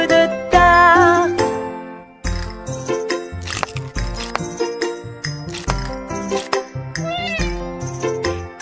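A children's song about three little kittens features sung cat meows over a bright, jingly accompaniment with bell-like tones and a bouncy rhythm, the voice repeatedly imitating meowing.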